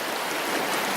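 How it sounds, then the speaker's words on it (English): Two burns meeting at a confluence, their combined water rushing steadily with a broad, even wash that stays constant throughout, no voices. "this is what we call a confluence of the two streams or burns"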